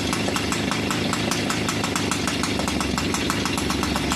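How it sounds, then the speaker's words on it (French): A Peugeot 103 moped's two-stroke engine idles nearby, running on a 3% oil mix, with a rapid, even popping beat that holds steady throughout. "Ça, c'est un ralenti impeccable."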